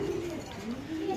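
A large pigeon at a bird market gives a low, wavering coo, a soft throaty call rising and falling for about a second against background chatter.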